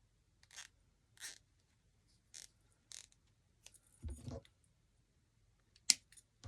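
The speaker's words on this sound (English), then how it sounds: "And I'm just going to zip tie that." A small plastic zip tie is fastened onto a decorative sign, a series of short, quiet ratcheting clicks and rasps spaced out over a few seconds, with a sharper snap near the end.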